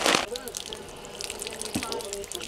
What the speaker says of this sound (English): rinse this off, and we're gonna start cooking this